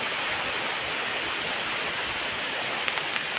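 A downpour over cotton farmland makes a constant wash of rainfall noise that stays even and close throughout, with a few faint clicks near the end and no talking.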